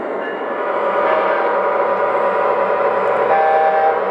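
Union Pacific engine pulling leased Amtrak passenger cars, heard as a steady, fairly loud rolling rumble with rail noise that swells slightly and holds throughout.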